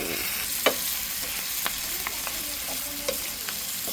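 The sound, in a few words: stirring lechon pork sisig in a pan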